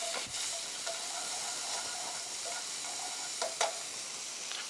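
Scallops brown on one side in a hot pan, giving a steady, bright sizzle with a few sharp clinks and scrapes breaking through now and then.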